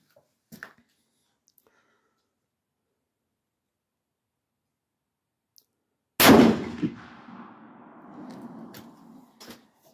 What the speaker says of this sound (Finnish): Ja ensimmäiseksi ammumme puhtaaseen paperimassaan.